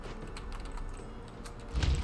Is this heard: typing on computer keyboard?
yes